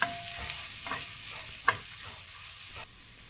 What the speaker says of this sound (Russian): Кладу лук и обжариваю вместе.